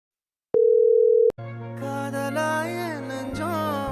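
A single steady phone tone sounds after dialing for under a second, then cuts off abruptly and gives way to sustained music.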